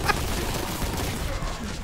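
Dense, rumbling gunfire from the Warhammer 40,000 Boltgun video game fills the moment as a continuous loud barrage, with a sharp crack at the start.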